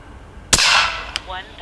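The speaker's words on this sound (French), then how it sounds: "Ok, là, je vais faire un 130 mètres sans silencieux." A single sharp, loud crack from an FX Airguns Panthera 700 air rifle fired outdoors without a silencer at a 130 m target, followed by a short decaying tail and a faint distant click.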